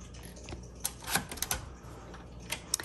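Keys strike on a red 1956 Royal Quiet Deluxe typewriter in an irregular run of crisp clacks, a few louder than the rest. The typing is fairly quiet and close, with no talk.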